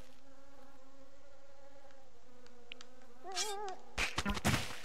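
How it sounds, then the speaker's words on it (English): Bees buzz in the game Drunken Spelunkin, a steady droning hum that wavers in pitch before a burst of harsher noise at the end. "They're bees this time."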